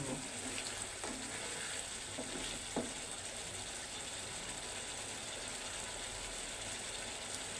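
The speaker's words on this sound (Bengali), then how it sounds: "জিরা ভাজিয়ে দিচ্ছি" Cumin seeds frying in hot oil over a cooked Padma river aair fish curry, a steady crackling sizzle with faint clicks and scrapes on top.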